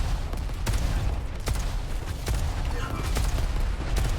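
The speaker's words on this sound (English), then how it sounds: "deathr0w, with a machine gun, somehow comes out on top there" Machine gun fire in a competitive online arena shooter duel: bursts and sharp shots crackle intermittently at moderate loudness, with a commentator talking over them.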